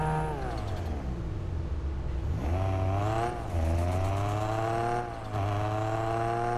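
Inside the Car Parking Multiplayer video game, an Infiniti G37 engine revs up and down in a continuous, loud, close drone. The pitch climbs and drops several times, and no voices are heard.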